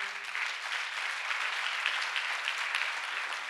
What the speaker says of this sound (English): Clap for the master of deliverer